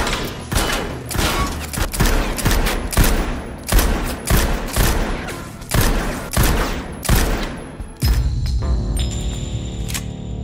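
Rapid gunfire at a shooting range in a film, a dense series of loud, sharp shots in uneven bursts, then a lower rumble with a faint ringing tone at the end; no speech.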